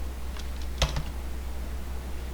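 Typing on a computer keyboard: a short burst of a few quick clicks, with one firmer keystroke, close and alone over a faint steady hum.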